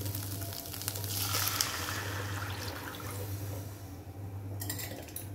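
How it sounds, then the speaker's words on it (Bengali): Cold water poured into a cooking pot of frying spices, giving a steady sloshing, bubbling pour over a constant low hum, with a few faint clinks toward the end. "কষে এসেছে, এবার জল দিয়ে দেবো।"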